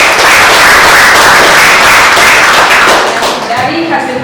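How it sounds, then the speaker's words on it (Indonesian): An audience in a classroom applauds a presenting student group, a loud burst of dense clapping that holds steady and then thins out and fades near the end. "tepuk tangan buat kelompok 1"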